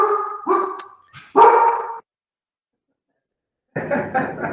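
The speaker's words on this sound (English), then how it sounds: "Sorry, my dog's barking." Pet dog barking indoors during an online board of education meeting, a run of several close yips and barks, a silent gap, then another bark burst at the end.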